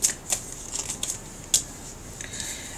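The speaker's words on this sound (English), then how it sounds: "Let's get some more cards." Tarot cards being shuffled and pulled from the deck, a quiet run of crisp taps and flicks at uneven intervals, close by, with no voices.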